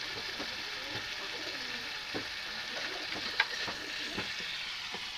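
Chopped tomatoes frying in a spiced masala for chicken kosha, a steady soft sizzle throughout with a few faint clicks and scrapes, no talking.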